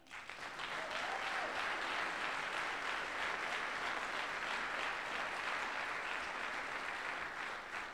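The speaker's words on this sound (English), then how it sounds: "give yourself a hand clap." A crowd at the Brockton mayor's State of the City address breaks into sustained applause, a full, even roar of clapping that swells within the first second and holds steady to the end.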